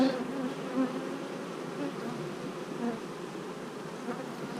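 A hive of honeybees with their queen hums in a steady, dense buzz, close and continuous, with slight swells in loudness and no voices.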